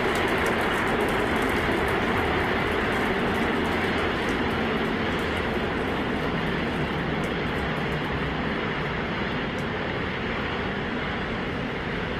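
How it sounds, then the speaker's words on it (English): SpaceX Starship's first stage, powered by 33 Raptor engines on its second integrated flight test, gives off a steady, thunderous broadband roar that holds unbroken and loud throughout. "33 Raptor engines powering the first stage."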